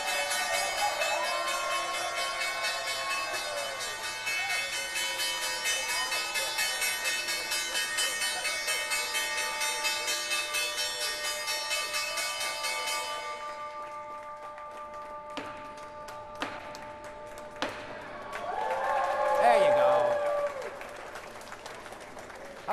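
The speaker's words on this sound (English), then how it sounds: "The team from PagerDuty, ticker symbol PD, here at the NYSE, set to ring the closing bell." The New York Stock Exchange closing bell rings as a steady, bright electric clang for about thirteen seconds over a crowd's continuous applause. It then cuts off, leaving scattered claps, cheers and a few sharp knocks.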